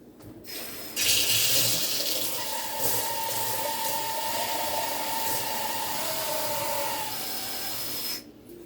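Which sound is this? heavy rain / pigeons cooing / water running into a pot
water running into a pot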